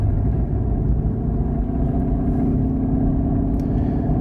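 A Mercedes GLC 63 AMG with a 4-liter twin-turbo V8 being driven quickly through turns, a steady deep engine rumble and road roar heard from inside the cabin, constant and fairly loud with no talking.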